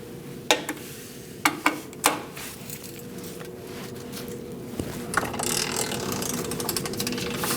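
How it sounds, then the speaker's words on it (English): A torque wrench tightens nuts to 33 foot-pounds on a 2000-2006 Mini Cooper 1.6L L4, giving a few sharp, close ratchet clicks in quick pairs, then softer, faster clicking over a quiet workshop hum. "We're also going to torque these to 33 foot-pounds."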